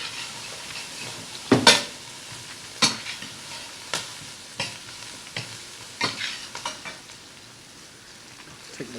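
Collard greens cooking in a pan alongside seared salmon, with a steady soft sizzle and hiss broken by several sharp stirring scrapes and clatters, close and fairly quiet with no talking.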